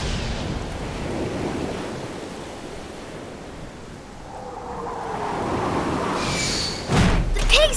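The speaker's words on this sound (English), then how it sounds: "The winds and waves are pushing them back." Strong winds and ocean waves in a cartoon sea rescue, a rushing, surging wash that swells and eases, with a sudden heavy thud near the end.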